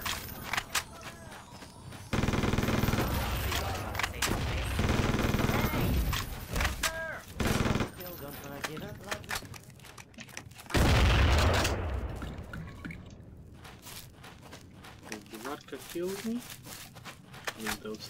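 Video game gunfire in bursts of loud shots mixed with footsteps and clatter, while a voice talks throughout over the action.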